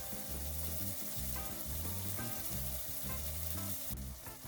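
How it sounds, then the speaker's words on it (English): Andouille sausage sizzles steadily in a pot while it browns for gumbo, a continuous close frying crackle that holds at an even level for several seconds. "So we're going to let this sizzle for a little while on both sides."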